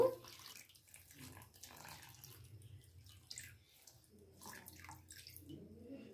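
Water is poured over rice flour and semolina to soak, a soft, faint splashing and trickling that runs unevenly for several seconds with brief pauses.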